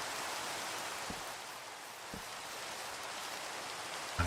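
Rain falling in a blocky video game world, a soft, steady hiss with a few faint low thumps, quiet and uninterrupted.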